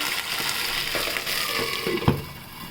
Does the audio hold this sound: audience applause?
no